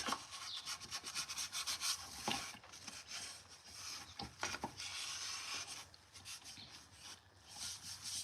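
Wax being rubbed by hand onto a wooden furniture piece during a cottage-style thrift flip: steady, close scratchy rubbing strokes that repeat throughout with short pauses, and no voices.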